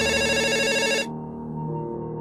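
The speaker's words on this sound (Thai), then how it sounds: "ทันใดนั้นเสียงโทรศัพท์บ้านก็ดังขึ้นจากชั้นล่าง" A landline telephone rings downstairs with a bright electronic trill for about a second, then cuts off, leaving a low hum behind.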